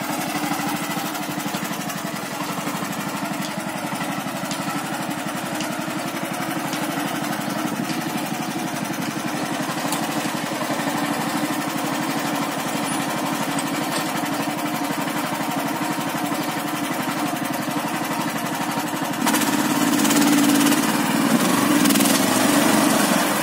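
MTZ 13H walk-behind tractor with a rotary tiller attachment, its engine running steadily and loudly throughout with a continuous buzzing drone, rising in intensity near the end.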